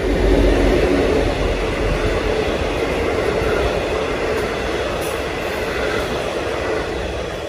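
Model railway N-Class locomotive hauling the Up Gippslander at an exhibition layout, a loud steady rumble and rolling wheel noise close by, continuous throughout without talk.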